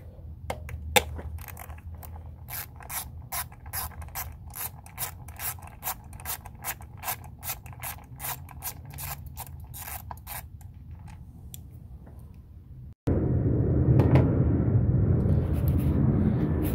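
Ratchet wrench loosening bolts during a spark plug change on a 2009 Honda CR-V, with rapid repeated ratcheting clicks up close for about twelve seconds, then giving way to a louder, steady broadband noise.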